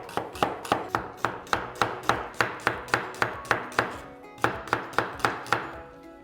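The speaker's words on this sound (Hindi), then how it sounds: "हम काटेंगे प्याज। अब मम्मी क्या करती हैं, लंबा लंबा प्याज यूं काटते हैं" An onion is cut into long, uneven lengthwise slices on a board. About fifteen crisp knife chops land in a steady rhythm with one short pause, close up and alone.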